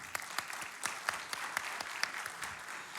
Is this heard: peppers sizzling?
no